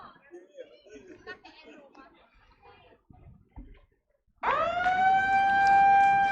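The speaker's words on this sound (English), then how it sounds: "And there's the siren. We can start." A loud siren marks the start of play at the Australian national petanque championships. It wails in steadily after a stretch of quiet talk and holds to the end of the clip.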